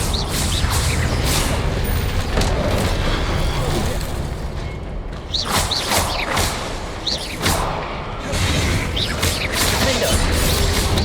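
Confringo blasting spells in Hogwarts Legacy burst in a rapid series of whooshing booms and crackling explosions, loud and close, layered over continuous combat noise.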